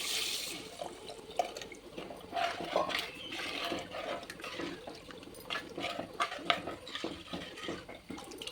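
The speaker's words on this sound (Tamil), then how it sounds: "இப்போ புளி தண்ணி ஊற்றிக்கலாம்." Tamarind water poured into a simmering Kovai-style fish curry, with a steady liquid splash and a few light clinks of a pot or vessel throughout, close and fairly loud, with no talking.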